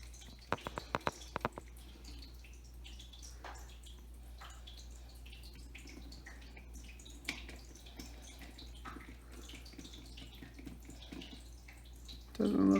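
A water spray bottle mists a desert horned lizard: a quick cluster of sharp spritzes near the start, then faint, quiet background with small drips and rustles.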